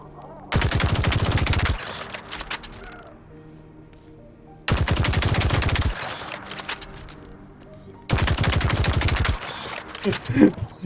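Gunfire from a weapon in the video game Voidtrain, fired in three loud rapid-fire bursts of about a second each, separated by quieter gaps of low background sound.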